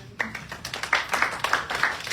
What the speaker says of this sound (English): Everybody give Sybil a round of applause.